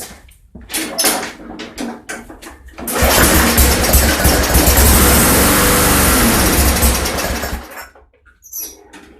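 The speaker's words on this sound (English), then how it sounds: "I can tell I'm gonna have to service that carburetor, but the engine does run." A small engine, given a shot of starter fluid and due for carburetor service, sputters, then catches and roars loudly for several seconds before cutting out, with scattered knocks and handling noises around it.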